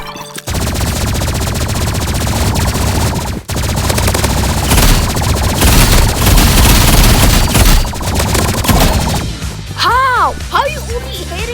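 A shooter video game fills the scene with loud, dense bursts of rapid automatic gunfire. A short gap breaks the firing, then it resumes and ends in ringing electronic tones, with players talking over it.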